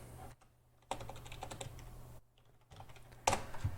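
Quick, light key clicks tapping out a short search term on a computer keyboard, in two brief bursts with short pauses, close and quiet.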